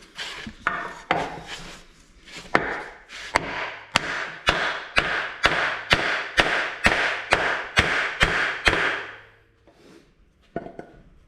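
A steel hammer taps repeatedly on metal parts while working on a 1945 John Deere B tractor, about fifteen sharp, evenly spaced strikes in a steady rhythm, close and loud, with no talk.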